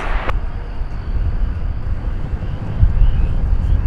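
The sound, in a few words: Air Canada Airbus A220-300 landing at DFW Airport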